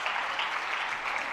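Loud, steady applause from a large gathering at a Jain religious discourse, dense and continuous with no talk over it.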